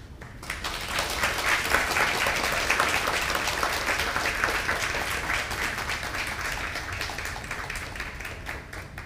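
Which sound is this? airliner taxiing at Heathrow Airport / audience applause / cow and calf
audience applause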